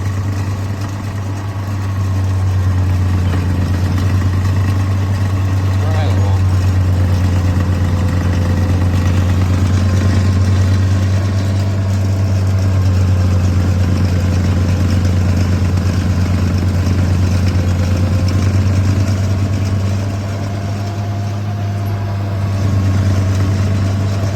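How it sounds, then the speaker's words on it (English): Snow blower engine running steadily in deep snow, a loud, constant low drone close by that holds at the same pitch for over twenty seconds with only slight dips. "So I went home and got the snow blower"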